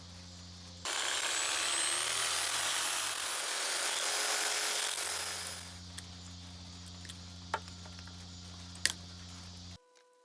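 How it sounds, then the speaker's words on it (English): Loud, gritty cutting of nylon wire on a large scrap sealed unit lasts several seconds, then gives way to a low steady hum with scattered clicks and taps. "I'll be alright to cut this nylon wire on this side."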